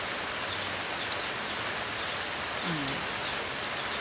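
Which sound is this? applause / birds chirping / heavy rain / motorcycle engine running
heavy rain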